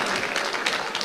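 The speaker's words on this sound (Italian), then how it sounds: "Anche un applauso qua ci sta, rappresenta un'organizzazione." Audience at a Moroccan-Italian cooperation event applauding, a brief burst of dense clapping, moderately loud and unbroken.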